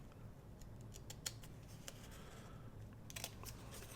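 Scissors trimming the excess off a vintage book cover, a scattering of small faint snips and ticks spread across a few seconds, quiet and close over a soft background hiss.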